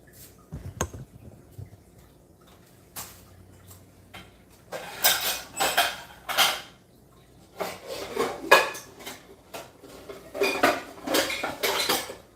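Metal pots are shifted around in a home kitchen while cooking okra, with clattering knocks and scraping clanks in irregular bursts, sparse at first and then denser and louder.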